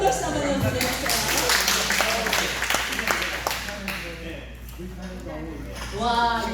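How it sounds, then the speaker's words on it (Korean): An audience at a humanities lecture in a church applauds, a burst of scattered clapping from many hands that gradually thins and fades as talking resumes. "두 분의 큰 박수 한번 보내주세요."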